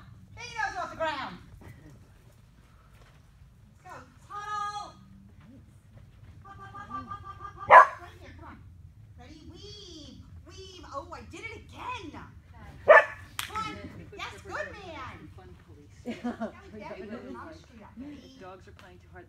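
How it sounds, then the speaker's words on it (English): Dogs playing roughly together, border collies among them, give a few scattered barks and yips, with two sharp loud barks standing out, while a person speaks commands in between. "Dogs are playing too hard. They'll bark."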